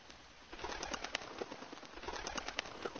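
Birds in the Grow Cube flash puzzle game give soft fluttering coos and wing flaps, a quiet busy cluster of short bird sounds over a faint background.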